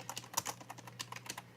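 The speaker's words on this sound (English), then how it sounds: "You can hear me typing here." Rapid, irregular keystrokes on a computer keyboard, close and fairly quiet, with a few heavier clacks mixed in and no talking.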